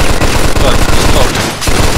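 Rapid, dense gunfire from the Mafia 2 video game, a loud sustained burst of automatic shots with no pause, hammering steadily throughout.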